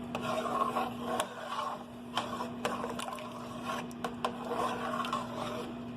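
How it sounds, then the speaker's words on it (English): A spoon stirs a pot of homemade seafood gumbo, giving a steady scraping, rasping texture with a few sharp clicks and knocks against the pot over a constant low hum. "I'm going to stir that in good."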